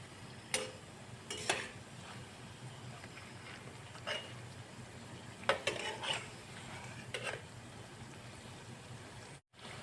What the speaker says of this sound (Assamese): এনেদৰে মিছা মাছকেইটা উলট পালট কৰি ভাজি লৈ আছোঁ।